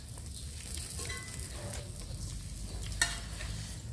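Raw blood larb, a Thai salad, is mixed by hand in a wet, squelchy, steady churning close by, with one brief sharp knock near the end.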